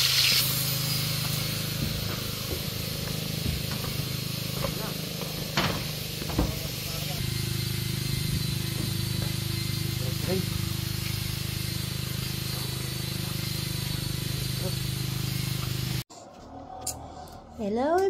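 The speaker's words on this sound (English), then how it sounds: "Angel's frying up a milkfish over here." Milkfish frying in a pan sends up a steady, dense sizzle and hiss that runs close and continuous for most of the stretch with a few small pops, before a short voice cuts in at the end.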